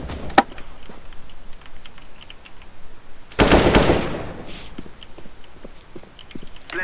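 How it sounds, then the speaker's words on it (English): Gunfire from the video game Counter-Strike: Global Offensive: a single sharp shot, then scattered faint taps and a dense loud burst of rapid fire lasting about half a second, with quieter game noise around it. "Why would you keep shooting me?"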